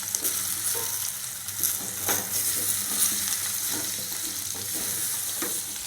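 Pumpkin and onions stir-fry in hot oil, giving a steady close sizzle broken by repeated scraping, clattering stirs of a spoon in the pan, with no talking.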